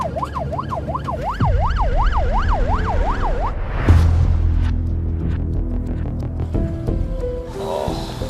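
Ambulance siren wailing in rapid rising-and-falling cycles during an emergency run to hospital, loud and close, then giving way to a deep thump, engine rumble and cabin clatter.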